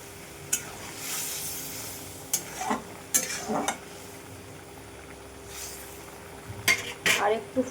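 Rohu fish pieces going into a simmering poppy seed curry, a low bubbling hiss punctuated by scattered clinks of a spoon and pot and brief splashy bursts, with no talk.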